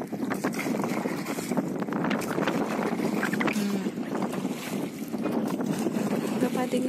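An eight-seat motorboat drones steadily on the water at Muttukadu Boat House near Chennai amid wind buffeting the microphone, with people talking faintly over the constant rumble.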